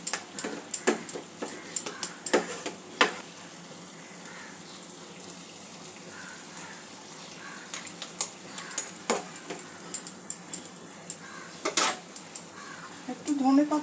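A spoon scrapes and clinks against a pan as Bhetki fish curry is stirred, giving irregular metallic taps and scrapes at moderate distance with a soft background hiss.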